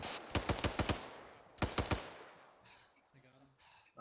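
Bursts of machine gun fire in a military simulation game ring out sharply: a rapid string of five shots, a pause, then another quick burst of four, followed by quieter radio-like chatter and background noise.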